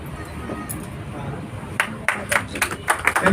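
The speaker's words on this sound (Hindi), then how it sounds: "ऐसी ताली बजाएं जैसे बाबा रामदेव बजवाते हैं" Scattered clapping from a crowd at an outdoor public event with a minister's visit, starting amid background chatter and growing into sharp, uneven claps in the last second and a half.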